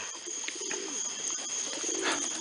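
Pigeons coo softly and repeatedly near a trap during a young bird release, low throaty calls rising now and then over a steady outdoor hiss, with no talk.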